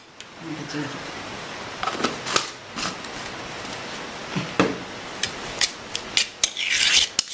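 A spoon stirs and scrapes a sandwich filling of banana and honey in a bowl, giving scattered knocks and scraping strokes that grow busier toward the end, close up, under some soft talk.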